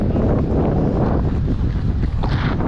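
Strong wind in the Crazy Mountains roars and buffets the microphone, a loud, dense, unbroken rumble throughout.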